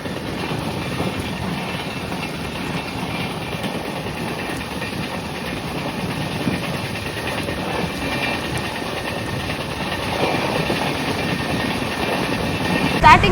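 Mysuru–Kacheguda superfast express running at about 91 km/h, a steady loud roar of wheels and rushing wind heard from inside the train, continuous throughout and swelling slightly near the end.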